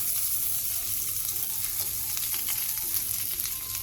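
Green onion and garlic fry in a pan with a steady, dense, close sizzle that holds evenly throughout without pause.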